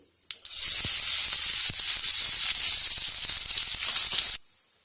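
Small shallots, cut into pieces, hit hot oil for a Madurai mutton pepper curry and set off a loud, bright sizzle that jumps up all at once, holds steady for about four seconds and then stops abruptly.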